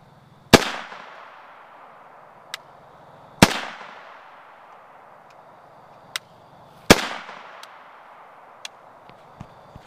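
Three sharp AK rifle shots of standard Tula 123-grain ball ammunition fired at about five yards into a homemade bullet trap, each a loud close crack with a decaying ring, spaced roughly three seconds apart, plus faint small clicks between.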